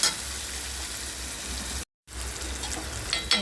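Tomatoes and onion fry in a pan for a dry okra curry, giving a steady close sizzle that cuts out briefly and then resumes.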